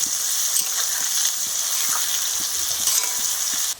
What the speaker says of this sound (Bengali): পেঁয়াজটাকে আমি ভালো করে ভেজে নেব লাল লাল করে